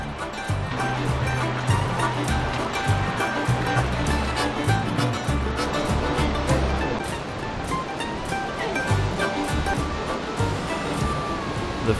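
Rushing creek water in a canyon near Zion, heard as a continuous close wash of flowing water and splashing, steady and fairly loud, with some low rumble underneath and no talk.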